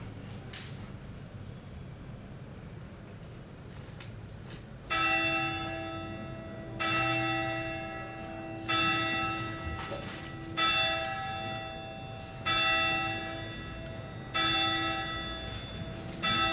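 A church bell tolls in slow, steady strikes roughly every two seconds, each ring sustaining with a bright, shimmering hum, heard indoors during a trial over a low room murmur.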